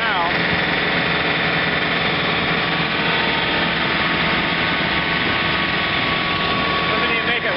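A John Deere 2720 compact tractor runs a 47-inch snow blower at 540 PTO RPM, a loud, steady engine drone with constant high whine and rumble throughout, no pauses.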